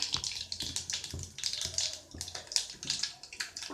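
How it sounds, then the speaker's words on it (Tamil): Mustard seeds popping and spluttering in hot oil in a pan while cooking idli upma, a dense, irregular crackle of sharp little pops close by, with no voices. "கடுகு நல்லா பொரியுது"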